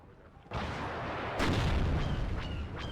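Anti-tank missiles strike tanks in the WARNO real-time strategy game: two loud, close booms land in quick succession, each followed by a sustained rumbling roar, with faint crackling over the top.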